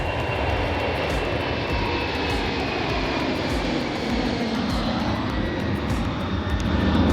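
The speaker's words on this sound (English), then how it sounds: "that's an A3, that's a 747." A Boeing 747 jet airliner passes overhead at close range near Hong Kong, a loud, steady jet-engine roar with a faint whining tone, swelling slightly toward the end.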